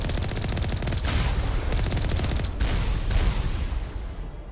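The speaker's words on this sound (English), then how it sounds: "Forgot they start out shooting at us." Enemy gunfire in the Mass Effect game, a dense, continuous fusillade of rapid automatic shots with sharper bursts cutting through, loud and sustained with no talking.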